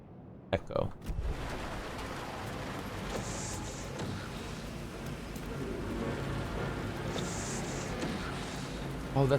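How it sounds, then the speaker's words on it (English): Car windshield wipers in the video game Alan Wake 2 sweep over a wash of rain-like noise, with soft repeating swishes a few seconds apart and a brief clunk at the start. "that's the sound of the wipers"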